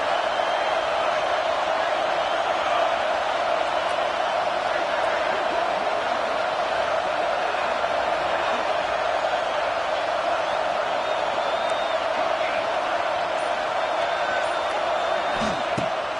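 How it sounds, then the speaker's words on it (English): A football stadium crowd roars continuously and loudly while the defense keeps the opponent pinned deep, a dense, unbroken wash of cheering that holds at the same level throughout. "The roar of the crowd trying to fuel this defense to keep them pinned in their own end."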